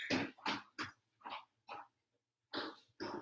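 A spotted dog with two different eye colors at a pet show gives a series of short, close huffs and coughing barks in an irregular rhythm, with a pause before two final bursts.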